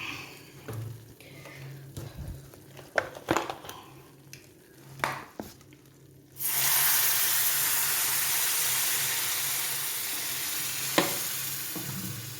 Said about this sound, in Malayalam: ഇനി നമുക്ക് വിനാഗിരി ഒഴിച്ചു കൊടുക്കാം